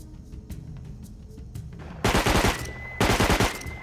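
Two loud, rapid bursts of Hunter Custom SMG fire in the game Rust, each a fast rattle of shots lasting about a second, preceded by quieter clicks and handling noises.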